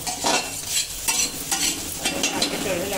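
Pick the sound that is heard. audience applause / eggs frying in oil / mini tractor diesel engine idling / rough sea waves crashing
eggs frying in oil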